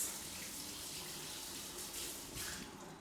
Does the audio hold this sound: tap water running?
yes